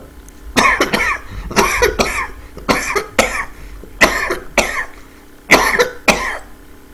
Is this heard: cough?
yes